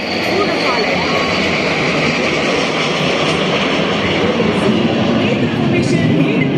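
One Embraer and two Rafale jets flying over the Republic Day parade at Kartavya Path, a dense, loud, steady roar throughout, with voices faintly under the din.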